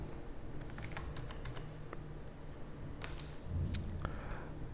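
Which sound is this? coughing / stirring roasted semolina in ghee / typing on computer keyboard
typing on computer keyboard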